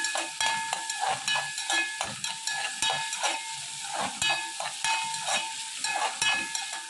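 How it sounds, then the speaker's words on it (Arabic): Chopped onions sizzling in a pan until golden, a steady bright crackle and hiss with repeated scraping stir strokes, close and continuous with no voices. "هنحمر البصل لحد ما لونه ما يبقى لونه ذهبي، مش هنغمقه عن كده"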